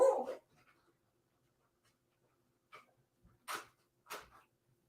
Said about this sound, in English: Marley's barking again